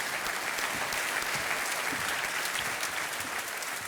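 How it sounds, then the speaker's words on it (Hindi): A studio audience at a TV quiz show claps in a dense, continuous burst of applause, loud and close throughout, with no pauses or talk. "तालियों के साथ आपका अभिनंदन करते हैं"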